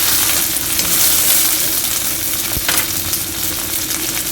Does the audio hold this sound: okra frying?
yes